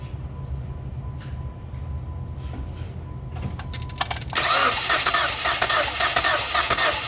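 A 2015 Jeep Patriot 2.4L engine cranks during a compression test. A low background hum gives way partway through to a loud, continuous, close starter churn.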